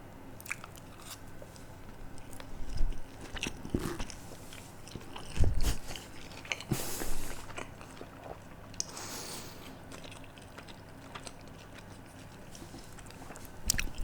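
Someone bites into a crispy sushi roll close to the microphone, giving a few quiet crunches followed by soft chewing with little else around.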